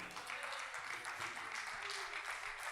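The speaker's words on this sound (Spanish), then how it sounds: "Dele aplausos al Señor." A church congregation claps together in a steady, even patter of applause that goes on for a few seconds at moderate volume, then ends with a sharp sound at the very end.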